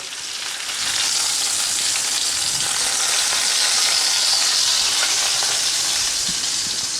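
Steak sizzles in a hot cast iron skillet, a loud continuous hissing fry close by that swells after the first second and holds steady, with faint crackles scattered through it.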